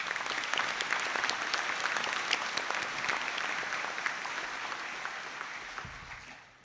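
Steady, dense applause from a graduation conferring audience honouring absent graduates, a continuous even wash of many hands that holds level and then fades out at the end.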